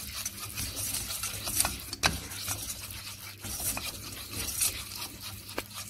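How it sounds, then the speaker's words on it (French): Flour being stirred into a pan for a potato gratin sauce, with soft continuous scraping and light rubbing of a utensil against the pan, plus a few sharper clinks, fairly quiet and without talk. "Ensuite, on rajoute la farine. Il faut bien mélanger comme ceci."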